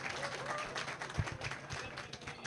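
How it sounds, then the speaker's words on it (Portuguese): Audience clapping at a union congress's international solidarity rally, honoring a woman representative of a Palestinian federation; moderate, dense applause continues throughout, with a few voices mixed in. "Uma salva de palmas para a companheira."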